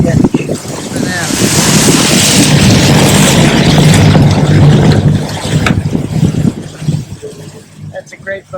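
Loud wind buffets the microphone over rushing sea waves and boat noise during a sailboat race, with a voice speaking through the roar.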